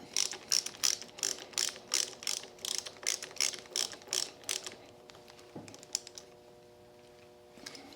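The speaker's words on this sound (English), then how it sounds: "Hold the pin and tighten the nut" A nut is tightened onto a clutch lever pin with a ratchet: rapid, regular, close clicks for about five seconds, then a few scattered clicks and a quiet tail.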